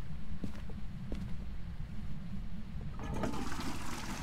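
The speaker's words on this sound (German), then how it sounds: "Was hast denn du mit dieser Klospülung?" A toilet flushing in the horror video game Phasmophobia, a rushing watery gurgle that swells near the end over a low rumbling background, with no talk.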